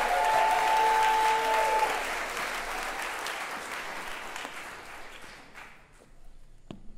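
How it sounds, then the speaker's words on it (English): Audience applause and cheering at a Kansas City theatrical show, a dense wash of clapping that starts loud and close and slowly fades out over several seconds. "Everyone make some noise for Bingo on the Boulevard."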